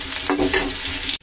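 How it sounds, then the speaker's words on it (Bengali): Sliced potatoes fry in a kadai with too much oil, giving a dense, steady sizzle with a brief swell partway through. The sound runs close and unbroken, then cuts off sharply. "তো চলো আলুটা ভাজা হচ্ছে, কিন্তু কড়াইটা আমি বেশি তেল দিয়ে ফেলেছি"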